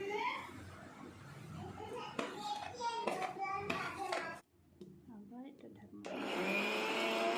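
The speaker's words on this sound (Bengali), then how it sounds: "জিরে ধনেটা দেওয়ার পর আর একবার এটাকে ভালো করে গুঁড়ো করে নেব।" A mixer grinder whirs as it grinds cumin, coriander and garam masala spices, running loud for several seconds, dropping off briefly, then starting again, with voices heard faintly under the motor.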